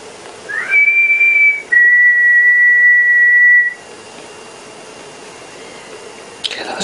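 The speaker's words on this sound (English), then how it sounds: "Did you hear that whistle outside?" A loud, sustained whistle sounds alone outdoors at Weald and Downland, rising into one held tone, breaking briefly, then holding a steady pitch for about two seconds before fading to quiet.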